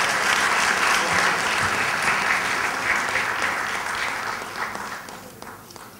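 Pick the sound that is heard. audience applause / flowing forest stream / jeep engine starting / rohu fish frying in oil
audience applause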